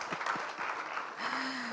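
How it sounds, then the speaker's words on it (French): Audience applause at a ciné-club screening of the African film "Le ballon d'or". The clapping is steady and fairly dense throughout, and a faint tonal sound rises near the end. "allez, allez, applaudissez pour nous."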